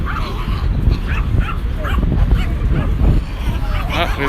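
Several dogs bark, yip and whimper in rapid overlapping bursts throughout a dog fight outdoors in autumn at Niagara Falls, Canada, with crowd babble and talk underneath, loud and close.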